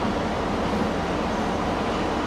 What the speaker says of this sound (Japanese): まもなく3番線に当駅止まりの列車が参ります。